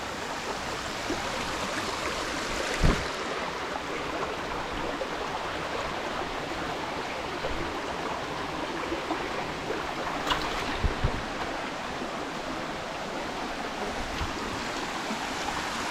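Steady broadband rush of a waterfall and stream flowing at the pool at its base in the jungle of Isaan, Thailand, a continuous wash of water with a few brief knocks, no voices.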